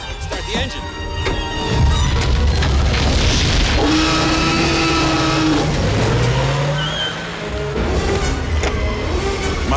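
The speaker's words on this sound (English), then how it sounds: "Start the engine." A car engine starting and revving during a Jurassic Park chase scene, with loud roaring revs mixed with booming impacts and movie effects, and voices shouting over the noise.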